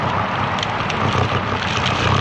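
Strong gusty side wind buffeting the microphone while riding a motorcycle across Lake Houston: a loud, dense, continuous rushing roar with fluttering low rumble, steady for the whole stretch with no speech.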